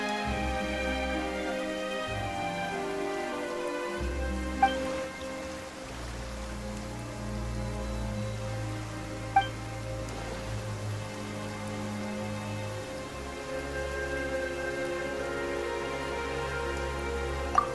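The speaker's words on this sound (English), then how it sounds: "Why is it raining all of a sudden?" Rain falls in the video game Genshin Impact as a soft, steady patter beneath a sustained musical score, with a few light chime-like ticks recurring and no talking.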